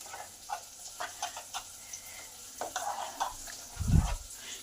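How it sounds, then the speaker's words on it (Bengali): Batter for crisp cauliflower stem fritters is whisked in a bowl, giving faint, quick scraping strokes in an uneven rhythm, followed by one soft thud near the end. "একটু ফেটে নিলে পকোড়াগুলো ফ্লফি হবে"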